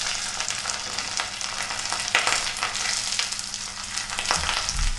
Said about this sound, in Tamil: மஷ்ரூம் வதக்கிடலாம்